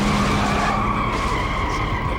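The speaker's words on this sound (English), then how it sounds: "you can find yourself competing in what's called a drift race" Tires squeal steadily as cars skid through a drift race in the video game Need for Speed Underground, a loud continuous screech with engine drone beneath, no talking.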